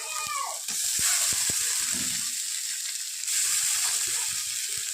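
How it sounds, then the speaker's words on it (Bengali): Ginger paste sizzling in hot oil in a pan while cooking chicken, a steady bright frying hiss with scattered spatula scrapes and stirring knocks, fairly close. "আদা বাটা দেওয়ার পর একটু ভেজে নেব"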